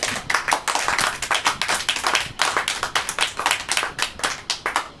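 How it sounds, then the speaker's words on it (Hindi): A church congregation claps hands in a steady, rhythmic beat, many people together at a brisk even pace, moderately loud with no talking over it. "हालेलुया, ताली बजाइए।"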